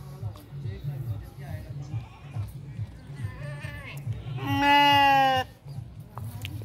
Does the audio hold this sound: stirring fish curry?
no